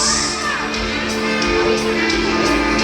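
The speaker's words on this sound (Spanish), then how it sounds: "Fuerte los aplausos." A crowd at a child's fifth birthday party in Ameyaltepec, Guerrero, cheers and shouts continuously and loudly, with claps and whoops mixed into the noisy festive din.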